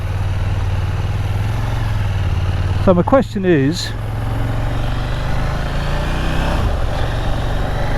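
A KTM 890 Duke R motorcycle engine runs steadily at low revs in third gear around 25 mph, a constant close drone under a rider speaking briefly.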